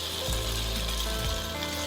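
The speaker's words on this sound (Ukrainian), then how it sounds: "Так, в грибах є трохи вологі, зараз трошечки зашкварчить." Mushrooms sizzle in a hot frying pan over above-medium heat, a steady crackling hiss with a low rumble underneath and no talking.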